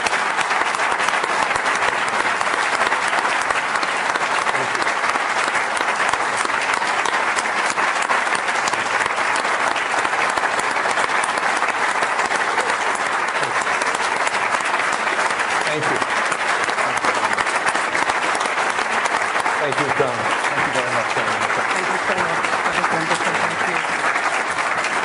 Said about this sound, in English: can we extend a warm round of applause to Senator Mitchell